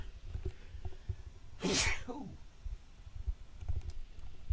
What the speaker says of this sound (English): Ooh, sudden sneeze.